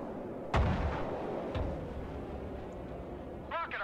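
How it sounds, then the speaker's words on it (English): Rocket artillery fires in the video game Broken Arrow, with a few sharp launch blasts spread across a steady low rumble, the last one trailing into a whooshing sweep. "Rocket artillery at your command, sir."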